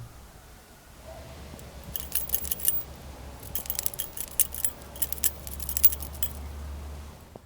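Light metallic jingling rattles in quick bursts, a small metal pike-fishing lure's pieces clinking together, fairly faint with no talking.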